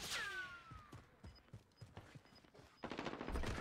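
Rapid gunfire from a video game crackles in short bursts over a background swoosh and game effects, growing into a denser, louder volley near the end.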